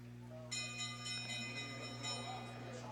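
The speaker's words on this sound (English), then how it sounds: "there's the bell for 1 lap to go" The last-lap bell rings at a short track speed skating race, a rapid series of bright metallic strikes starting suddenly and continuing steadily over the arena's low hum.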